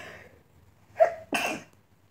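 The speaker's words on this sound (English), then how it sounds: "Sneeze." A single sharp sneeze, with a brief intake of breath just before it, close and otherwise quiet.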